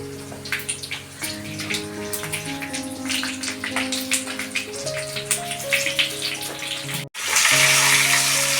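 Stuffed capsicums drop into hot oil tempered with fried garlic. Steady crackling sizzle sits under background music, cuts out for an instant, then returns as a louder, denser hiss.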